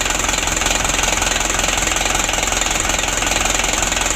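A worn diesel engine in a 2016 Hino Dutro 130 HD truck runs steadily at close range, with a continuous rough idle and knocking rumble and no pauses throughout.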